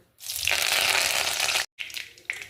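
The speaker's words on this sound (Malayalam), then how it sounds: "വെളിച്ചെണ്ണ മൂത്തിട്ടുണ്ട് ഇതിലോട്ട് കുറച്ച് കറിവേപ്പില ഇട്ട് കൊടുക്കാം" Curry leaves dropped into hot coconut oil for Kerala-style fried sardines burst into a loud, close, hissing sizzle that holds steady, cuts off briefly, then crackles again in short bursts.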